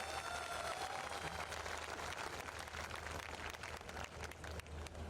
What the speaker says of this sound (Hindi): एक बार आशुतोष जी के लिए बहुत जोरदार तालियां चाहता हूँ